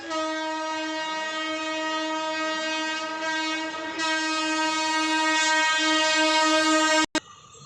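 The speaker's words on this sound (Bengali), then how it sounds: "ট্রেন চলে এসছে আমাদের, এখনই উঠবো।" A train pulling into a station sounds its horn in one long, loud, sustained blast that rises slightly partway through and then cuts off abruptly near the end.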